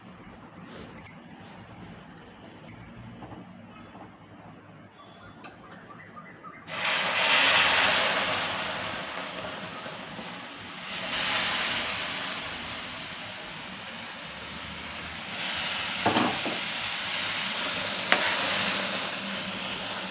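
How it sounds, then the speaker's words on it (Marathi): Water is poured into hot, well-roasted wheat flour for a jaggery halwa. After a quiet start, a loud, sudden, broad sizzle erupts and keeps hissing, surging again later on. "बघा आता किती छान खरपूस भाजून घेतलेलं आहे गव्हाचं पीठ यात आता मी हे पाणी टाकत आहे"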